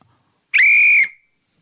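A person gives a single clear whistle, one steady high tone lasting about half a second that ends with a short falling tail, in an otherwise quiet room.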